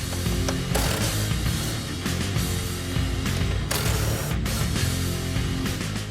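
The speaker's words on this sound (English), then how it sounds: "We're going to start by loosening these two bolts here, then we're going to support it and remove the subframe bolts." A ratchet loosening the rear subframe bolts on a Mustang during a coilover suspension install, a dense run of rapid clicking mechanical pawl sounds with dull clanks, close and steady throughout.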